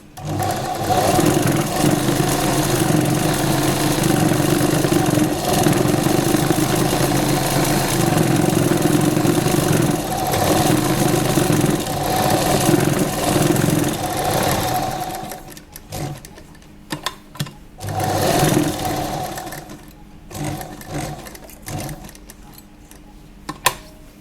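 Sewing machine stitching a lehenga waistband belt through lining and net fabric, a loud steady whirring run for about fifteen seconds, then short stop-start bursts of stitching with pauses, close up and without voices.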